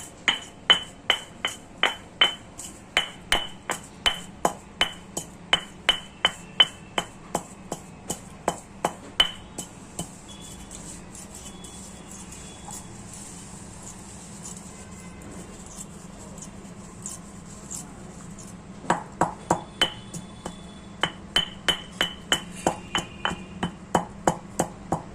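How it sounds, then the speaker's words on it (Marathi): Roasted niger seeds get pounded in a mortar and pestle, rapid, crisp clinking strikes in quick bursts, close and clear, with a pause in the middle before the steady tapping resumes. "हे दाणे खलबत्त्यामध्ये छानपैकी फुटून घेतले"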